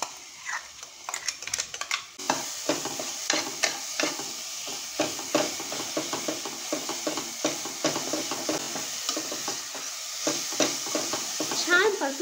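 Ginger, garlic and coriander paste sautéed with onions for horse gram curry, with a steady sizzle of frying and repeated close spoon scrapes and taps against the pan, no talking.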